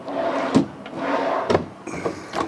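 A silverware drawer in the kitchen of a 2008 Nuwa HitchHiker Discover America 327 LK fifth wheel slides and bumps shut, with several short knocks and sliding sounds close by and no talking.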